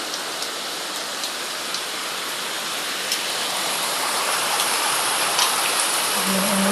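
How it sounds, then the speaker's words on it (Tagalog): Heavy rain pours down steadily in a dense, even hiss that grows slightly louder, with no voices, in the Calabarzon area of the Philippines. "Biglang ang ulan."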